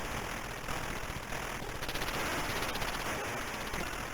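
Rapid arcade gunfire from the 1981 Red Alert video game rattles continuously throughout, with dense staccato bursts over steady electronic hiss and a high tone.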